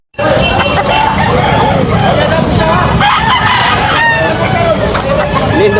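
Roosters crow loudly and close by, with fowl clucking in a busy, noisy yard and a babble of voices underneath.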